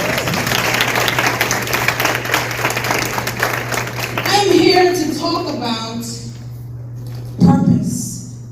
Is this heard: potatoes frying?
no